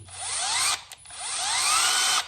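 A Milwaukee M12 Gen3 hammer drill with an electronic chuck winds up at speed 2 in drill mode, whining upward in pitch, cutting off briefly, then ramping up again into a second steady whir.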